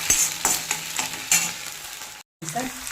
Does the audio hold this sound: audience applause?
no